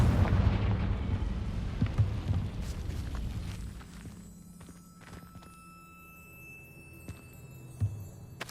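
The Confringo blasting spell explodes in the video game Hogwarts Legacy, a loud rumbling blast that slowly decays over several seconds, followed by faint scattered thuds and footsteps.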